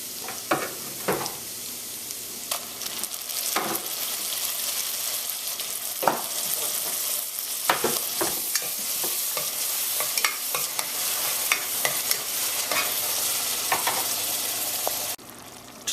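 Roasted tomatoes tipped into a pot with bacon, sizzling steadily while a spoon scrapes and stirs in repeated sharp strokes, close and alone with no talk.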